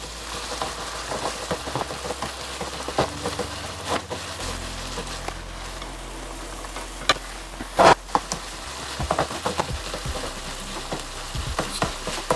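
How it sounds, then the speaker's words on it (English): Hamburger ground beef sizzling steadily in a pan while a spatula scrapes, turns and chops it, with sharp clacks of the tool against the pan over the constant frying hiss. "just keep turning it over and chopping up the big pieces"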